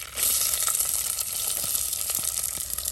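Sliced onion sizzling steadily in hot coconut oil with mustard seeds in a pan, a continuous bright frying hiss with small crackles and pops, close and alone without talk.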